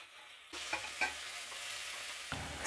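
Garlic, small shallots and curry leaves fry in hot oil in a pan, with a steady sizzle and a few louder stirring scrapes. The frying swells near the end. No one speaks.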